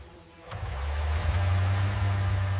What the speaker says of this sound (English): Listen to that rotary sound.